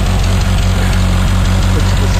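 Close, loud idle from a 1986 Suzuki Samurai's stock 1.3 exhaust, which has some leaks: a steady low rumble with an even, rapid pulsing beat throughout.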